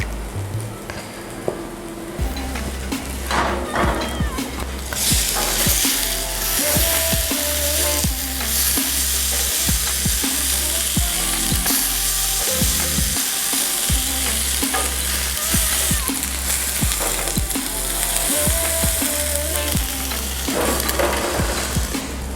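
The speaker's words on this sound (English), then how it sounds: "Add oil to the pan." Oil heats in a frying pan for taro root frying, with a steady close sizzle and crackle, interrupted by scraping, stirring and clinks from a utensil throughout.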